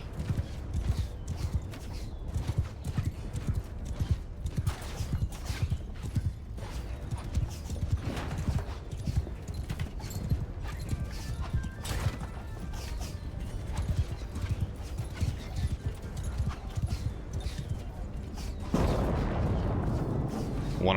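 Horse hooves clip-clop steadily through a siege battle in Bannerlord, with clanking siege machinery, a horse whinny and distant artillery blasts around them, and someone talking over the din.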